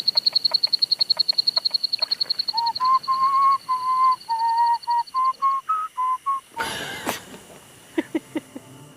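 Calls ring out at night in the Kakadu wetlands: a rapid train of sharp clicking notes, then a series of clear whistled tones, a brief broadband burst, and more clicks, loud and close against a quiet background.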